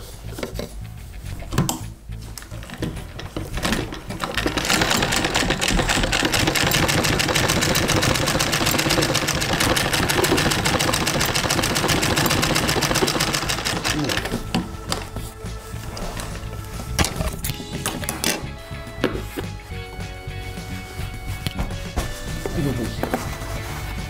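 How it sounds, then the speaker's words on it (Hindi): A sewing machine runs in a steady, continuous mechanical whir as it stitches a frilled baby pillow, with stops and starts at either end and some talking around it. "ये देखिए आगे से ये सिलाई मार दीजिए उसको"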